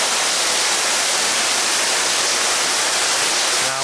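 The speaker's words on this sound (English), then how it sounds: "well, it's pouring out." Heavy rain pours steadily outside a luxury home with a pool, a loud, dense, unbroken hiss that fills the whole stretch with no voices.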